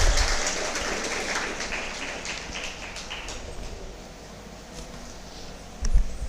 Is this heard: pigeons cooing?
no